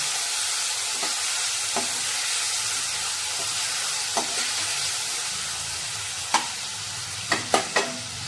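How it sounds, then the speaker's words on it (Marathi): Tomatoes sizzle steadily in a hot pan for a tomato-potato curry, a continuous hiss broken by a few sharp pops and spatters near the end, with no talking. "आता टोमॅटो आपण शिजत टाकला आहे, त्याच्यावर झाकण टाकते"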